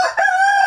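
A native chicken rooster crowing: one loud, close, sustained crow with strong harmonic tones, heard alone.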